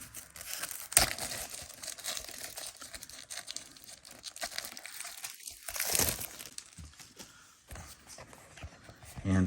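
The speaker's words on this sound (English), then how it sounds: "So let's pop the shrink wrap on this." Shrink wrap crinkles and tears as it is pulled off a boxed IBM personal computer, close-up plastic rustling and ripping, with a person talking over it.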